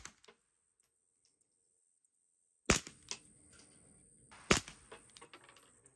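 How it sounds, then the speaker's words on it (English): Two sharp, quiet pops from a suppressed pistol loaded with dB Foam, spaced about two seconds apart after near silence, each followed by faint clattering and rustle nearby. "When I shoot this, I find I get 10 shots, give or take, at an ultra quiet level."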